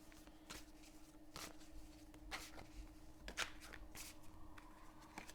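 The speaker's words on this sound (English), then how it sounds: "just finish shuffling the cards." Cards being shuffled close by, a series of quick riffling bursts and soft snaps over a low steady hum, with no talking.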